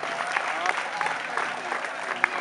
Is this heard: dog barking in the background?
no